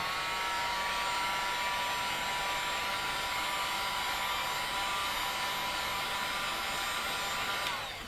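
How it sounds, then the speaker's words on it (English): A heat gun blows hot air in a steady, loud, unbroken whoosh that runs for several seconds near the microphone and tapers off at the end, used while preparing to heat a pressing mat for a ScanNCut cutting machine. "I am gonna keep my hands away from the front of this heat gun, but I'm just gonna heat it up."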